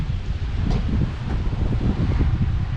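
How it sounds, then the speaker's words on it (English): Strong outdoor wind buffets the microphone in a continuous low roar, gusting steadily and close, with no voices. "It's windy today."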